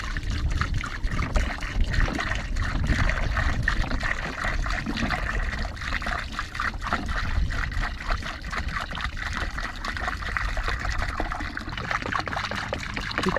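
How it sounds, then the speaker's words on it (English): Warm water runs from a tap into a small 3-gallon bucket already holding car-wash soap and a microfiber towel, a steady close gushing and splashing that holds evenly for the whole stretch. "fill it with the warm water."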